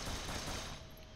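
A short, faint burst of rapid video-game gunfire, a steady rattle of shots that tapers off slightly at the end.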